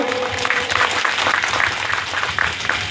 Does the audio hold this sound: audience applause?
yes